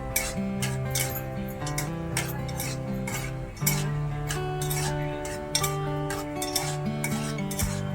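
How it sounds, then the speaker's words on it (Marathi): Peanuts roasting in oil in a pan for upma, stirred with a metal spoon that scrapes and clinks against the pan in steady repeated strokes, close and fairly loud, with a tonal ringing background. "सर्वात प्रथम शेंगदाणे भाजून घेऊ तेलामध्ये।"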